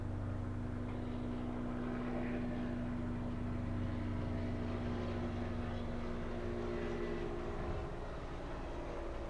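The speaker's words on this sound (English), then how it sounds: "Sorry, that helicopter flew over very close." Helicopter flying low and close overhead: a loud, steady engine and rotor drone with a deep hum that fills the whole stretch without a break.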